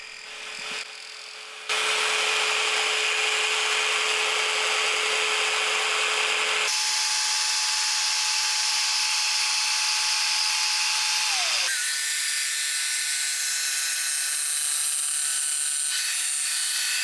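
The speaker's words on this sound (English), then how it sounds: "Use a bandsaw or jigsaw to rough cut the legs to shape" A bandsaw or jigsaw rough-cuts wooden legs to shape for a shop seat, a loud steady motor whine and rasping cut that runs continuously after a brief start, shifting pitch in stages, close and without talk.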